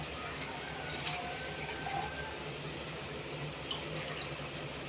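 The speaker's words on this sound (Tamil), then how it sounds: "இந்த ஸ்டேஜில் நம்ம தண்ணியை சேர்த்துடலாம்" Water is poured into a cooking pot while vegetable biryani is made, giving a steady, continuous stream of splashing liquid, close and moderately loud, with no talking.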